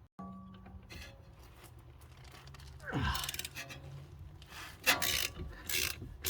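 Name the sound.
removing 18mm nut and bolt from suspension control arm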